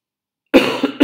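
A person sick for days with a sore throat coughs: a half second of silence, then a harsh, close cough that runs on with a rough tail, followed by one more short cough at the end.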